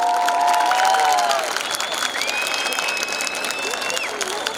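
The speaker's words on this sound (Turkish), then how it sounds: "Alkışlarınızı istiyorum" Applause and cheering from a crowd at a basketball team's meet-and-greet event, sustained and fairly loud, with voices and whistle-like tones rising over the clapping throughout.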